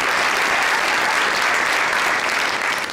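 Dense, continuous applause from a comedy show audience, a steady wash of many hands clapping at full loudness throughout, with no talk over it.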